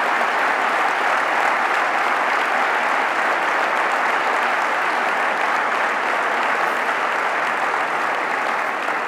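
An audience at a Madrid party congress applauds for about nine seconds, a dense, even roar of clapping from a large crowd with no voices standing out.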